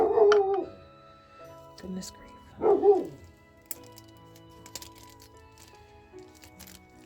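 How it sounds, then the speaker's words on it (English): A dog barks indoors, two loud separate woofs a couple of seconds apart, followed by faint clicks and knocks, with a brief spoken remark nearby. "That's my dog"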